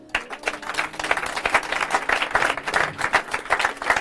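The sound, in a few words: congregation applauding and cheering for Jesus in church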